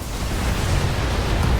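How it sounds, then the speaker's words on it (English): An ammo explosion in BattleTech: Flashpoint bursts out as a loud, sustained, broadband roar with heavy low rumble, filling the short moment without any talk. "Ammo explosion"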